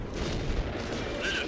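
A tank cannon fires during a World of Tanks battle, a heavy booming blast that rolls on as a dense, sustained rumble with steady loud battle noise underneath.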